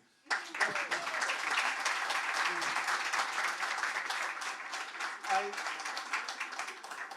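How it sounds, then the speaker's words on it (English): Audience applause breaks out suddenly after a short quiet start and continues as dense, moderately loud clapping at an evening discussion event, with faint voices murmuring beneath it. "Another big applause, please"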